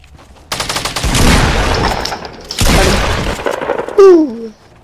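A pump shotgun fires in a Fortnite match with two loud, sustained blasts of gunfire and debris noise, separated by a short gap, followed by a sharp descending electronic tone at the end.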